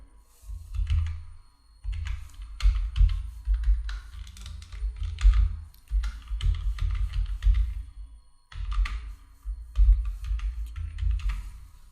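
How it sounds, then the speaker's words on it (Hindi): Fingers type on a computer keyboard in quick, irregular bursts of soft clicking keystrokes, close by, with a couple of brief pauses between runs. "ये हमने कर लिया टाइप"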